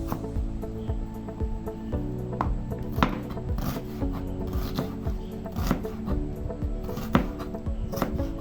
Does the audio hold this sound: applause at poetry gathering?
no